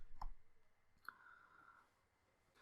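Faint, crisp mouse clicks during a SQL Server 2017 installation on a Windows 8 Pro computer, a sharp click early and another about a second later, close up in a quiet room.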